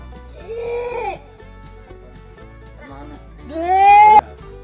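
Male Etawah crossbreed (PE) goats in rut bleat at a pen, two wavering calls separated by a pause, the second louder and closer.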